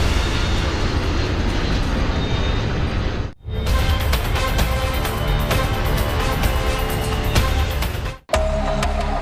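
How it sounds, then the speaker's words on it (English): An L-1011 jet airliner flying over the Florida Everglades with a nose gear problem gives a loud, continuous broadband roar. It is interrupted by two abrupt brief cuts, and no one speaks. "A jet is flying over the Florida Everglades"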